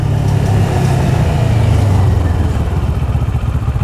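A CFMOTO 700 CL-X Sport motorcycle brakes hard. Its engine note falls from a steady rumble to a pulsing, lumpy idle, loud and close, with no talk over it.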